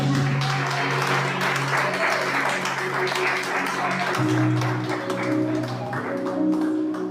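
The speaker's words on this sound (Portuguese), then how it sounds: "Aplauda o Senhor Jesus!" Congregation applauding during a church service, a continuous loud roll of clapping layered over sustained musical tones, with a shift in the held chords midway.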